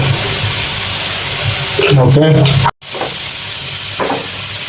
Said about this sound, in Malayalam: സബോളിൻ്റെ കൊടുത്തുണ്ട് ജസ്റ്റ് ഒന്ന് നമുക്ക് വാട്ടിയെടുക്കാം കുറച്ച് ഉപ്പിട്ട് കൊടുക്കാം